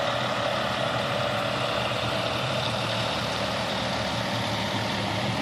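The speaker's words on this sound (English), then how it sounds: "I'll just wait for this truck to go by." A heavy truck rolls along a snow-covered road during a winter storm in Georgia, its steady, loud engine rumble and tire noise filling the scene without pause, with no talking.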